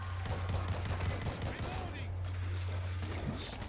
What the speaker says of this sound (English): Can't shoot that special because they're right in the middle of it all.